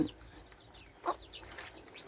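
Chickens kept at a home clucking softly at a distance, with a single sharper cluck standing out midway over a quiet background.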